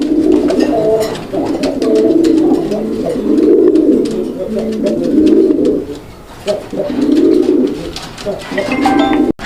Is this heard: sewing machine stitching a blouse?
no